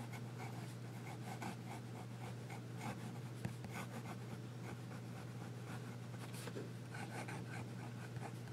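Esterbrook Estie Maraschino fountain pen with a smooth, wet nib scratching quickly across paper, steady rapid strokes, faint and close, with no voices.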